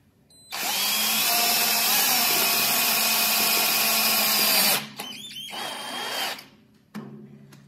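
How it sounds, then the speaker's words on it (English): A regular power drill driving screws into a utility trailer whirs loudly for about four seconds, then runs in a few shorter bursts, with brief rattles between them. "So I recommend just using a regular drill"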